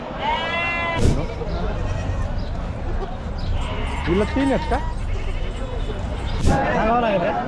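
Sheep and goats bleat at a large livestock market in Chakan, Maharashtra, several wavering calls rising over steady crowd babble and nearby speech.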